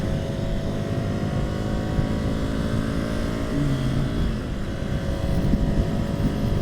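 A steady, loud engine drone with low rumbling harmonics runs continuously throughout, a 2020 Ducati Scrambler Sixty2 motorcycle heard up close while riding.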